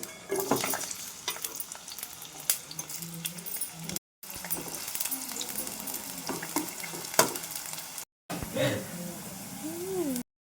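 Onions sizzle steadily in oil for a goat head curry, with stirring and clinks of a utensil, and a person talks over the cooking between short breaks.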